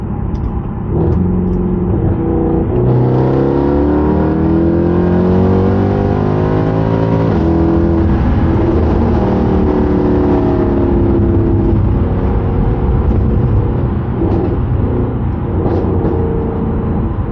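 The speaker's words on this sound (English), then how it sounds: "Hopefully you can hear the car fine with the windows up. It's quite loud though." A 2011 Mercedes C63 AMG engine revs and rises in pitch while driving, loud and continuous from inside the car with windows up, with gear-like shifts in the drone.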